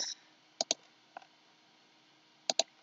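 Keyboard keys pressed while modeling a house in Blender, close crisp clicks in pairs: a quick double tap, a lone softer click, then another double tap in quiet surroundings.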